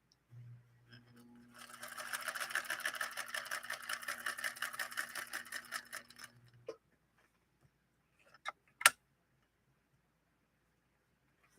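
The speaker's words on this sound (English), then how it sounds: "let me see if I can sew relatively straight." A 1963 Unicorn CL8 rotary sewing machine stitches bubblegum vinyl in one steady run of rapid mechanical clatter lasting several seconds, then stops, followed by a few faint knocks and one sharp click in the quiet.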